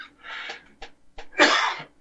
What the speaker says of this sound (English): I got a bit of a cough there